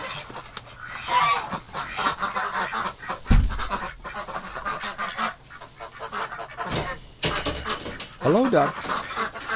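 Ducks and geese at a winter heated water station honking and quacking, repeated loud calls near and far, mixed with a person talking nearby.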